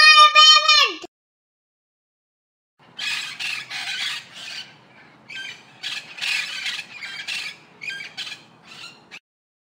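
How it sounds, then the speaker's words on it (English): A parrot gives one loud, shrill squawk that drops in pitch, then falls silent; after a pause, a voice from a children's phonics song follows. "P for parrot."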